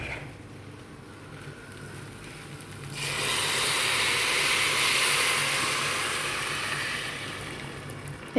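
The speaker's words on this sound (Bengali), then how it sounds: "এখন গরম পানি দিয়ে দিব।" Hot water poured onto fried basmati rice in a pot sets off a sudden loud hissing rush that swells, holds for several seconds, then slowly fades, close and with no talking.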